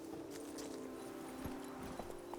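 Horse hooves clip-clopping steadily on the ground in The Witcher 3 game, a quick rhythmic patter under a constant ambient hum, with no one speaking.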